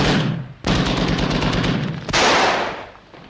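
Submarine deck gun in a 1943 British wartime film fires loud, sustained automatic bursts, one rolling straight into the next with a brief lull between and no talk over them.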